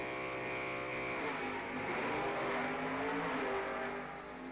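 A Super Stock drag race car, a Cobalt fitted with a Pontiac 428 engine, roars under full throttle at the strip with a steady loud engine drone, heard from a moderate distance.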